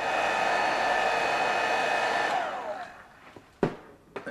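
A hair dryer blows steadily and loudly over a painted green diorama panel for over two seconds, then switches off and winds down, followed by a couple of sharp handling knocks.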